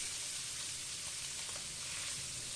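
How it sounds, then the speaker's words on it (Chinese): Beef sizzling in a hot wok during a chili and coriander stir-fry, a soft, steady frying hiss that holds evenly and quietly throughout with no talk. "把牛肉放进来，先把它们都扒拉开"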